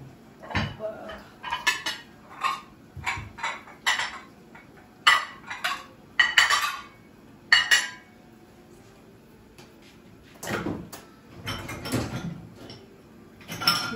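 Dishes, pots and pans clatter in a home kitchen while an iftar meal is prepared, a string of close, irregular clinks and knocks of metal and glass with short pauses between bursts.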